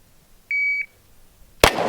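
A single electronic shot timer start beep, clear and sustained for a moment, followed about a second later by a loud, sharp gunshot from a pistol at a multi-target shooting range.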